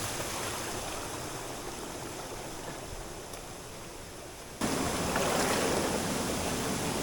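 Rushing water from a waterfall in a forest makes a steady broadband roar, moderately distant, stepping up suddenly louder partway through.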